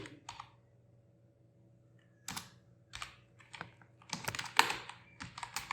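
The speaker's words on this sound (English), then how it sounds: "So I'm typing my project name." Bursts of computer keyboard typing as a project name is entered, quick clusters of key clicks separated by short pauses, close and fairly quiet in an otherwise still room.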